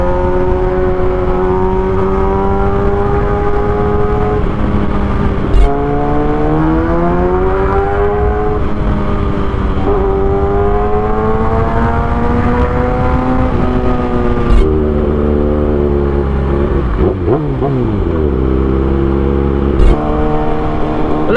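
A Kawasaki ZX6R 600cc inline-four motorcycle engine revs loud and close, pitch climbing and falling through repeated throttle blips with a steady harmonic drone between them.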